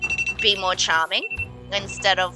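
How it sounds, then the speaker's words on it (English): An alarm clock rings with a steady, thin electronic beeping tone that keeps cutting in and out, heard faintly beneath continuous close conversation. "That was my alarm."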